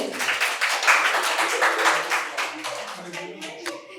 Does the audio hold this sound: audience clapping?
yes